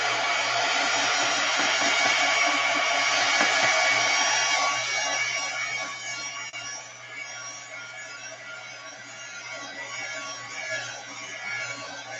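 A hair dryer runs steadily close by, drying a mixed media napkin collage journal page, a loud continuous whirring hiss that softens slightly partway through as it moves.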